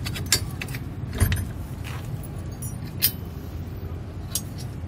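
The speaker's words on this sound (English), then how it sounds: "I'm gonna put our tow bar back into the receiver tube, line up the pinholes. And secure everything down." Roadmaster tow bar going into the receiver tube of a 2020 Jeep and pinned down: faint scattered metallic clinks and clunks, a few sharper knocks spaced over several seconds against quiet background.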